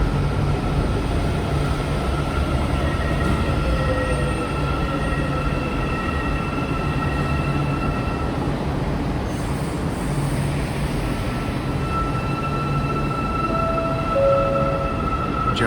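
An MRT Putrajaya Line train pulls into the station during the morning peak, a steady loud rumble of wheels and motors with faint high tonal whine from the rail, continuous for the whole stretch with no talk.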